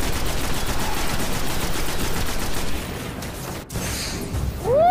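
An enemy ship firing in the Destiny video game, heard as a loud, steady stream of rapid repeated shots that fills the clip, then thins briefly near the end before a whooshing sweep.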